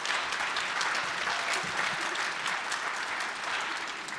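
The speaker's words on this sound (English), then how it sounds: "can you all give a round of applause and welcome your mayoral candidates" Steady, dense applause from an audience at a municipal forum welcoming mayoral candidates, continuous clapping from many hands with no break, fairly close and full throughout.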